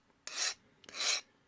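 Metal file rasping the sharp edge off the inside of modified pliers: two long, even strokes with a pause between, close and crisp, with no talk over them.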